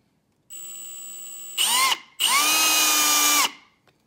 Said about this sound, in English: my drill bit can only go so far, and then my chuck is hitting the gusset